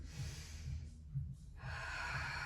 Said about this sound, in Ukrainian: Ми робимо вдих.